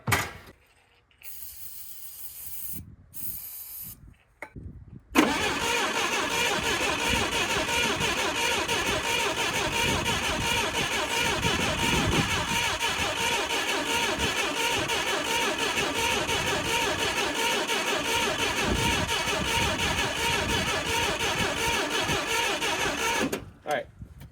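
Forklift engine cranking on its starter after a dose of carb cleaner, a loud continuous churning grind that runs for about twenty seconds after some brief shorter bursts and stops without firing.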